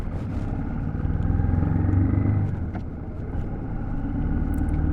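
A Royal Enfield Shotgun 650 motorcycle engine drones steadily while the bike is ridden in first gear. The rumble is moderately loud and rises slightly partway through, with no talking.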